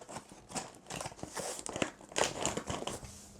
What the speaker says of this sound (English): just slide it right back into the box like this and fold it closed